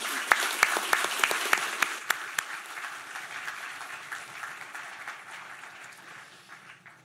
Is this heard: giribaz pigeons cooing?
no